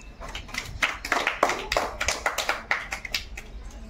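Children clapping at a prize-giving after a bangle game, a quick burst of scattered, uneven hand claps close by for a few seconds.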